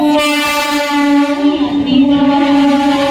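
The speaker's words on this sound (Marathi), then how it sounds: "एक जलद गाड़ी जाणार आहे, कोणीही रेल्वे लाइन ओलांडू नका" A fast local train roars steadily through a Mumbai station platform, its sustained horn-like tonal drone loud and continuous throughout with rumbling wheel and carriage noise beneath.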